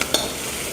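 Mustard-seed tempering (phodni) sizzling in hot oil for dadpe poha, a brief, steady close-up hiss with a faint clink near the start.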